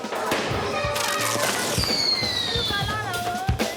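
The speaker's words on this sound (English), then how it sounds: "Kids are setting off fireworks in the Medina." Kids setting off fireworks in the Medina of a Libyan city: rapid crackling pops and bangs with a rising whistle streak, dense and fairly near, with voices faintly in the mix.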